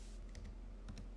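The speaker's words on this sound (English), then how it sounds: "I'm just typing in" A few quick keyboard taps in a quiet room, two short bursts of typing close by.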